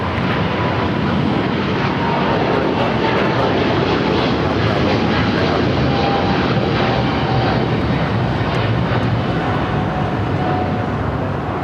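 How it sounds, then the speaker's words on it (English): A UPS Boeing 767 jet taxiing at LAX, giving off a steady, loud broadband engine roar with a faint high whine, continuous and unchanging throughout. "This UPS 767 will head up to the northeast corner of the South Complex."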